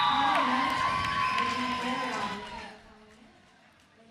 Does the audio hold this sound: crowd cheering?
yes